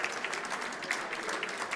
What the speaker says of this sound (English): Round of applause, please stand up in those first 10 years